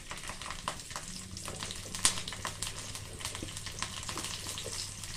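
Garlic sizzles in hot oil in a kadai, giving a steady, moderately quiet crackle with scattered small pops and one sharp click.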